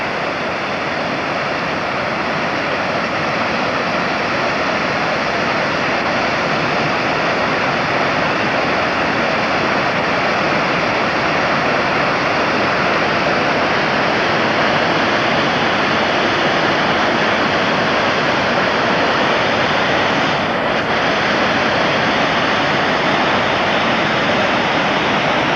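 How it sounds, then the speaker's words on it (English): Montgomery Creek in the northwest USA rushes steadily, a loud, constant broadband wash of flowing water with no breaks, heard alone without voices. "There's Montgomery Creek."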